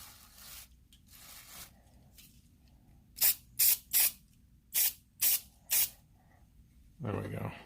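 Spray paint misted over a Foxbody Mustang engine bay in six short, sharp bursts, evenly spaced and close, with quieter rustling before and a louder scraping noise at the end.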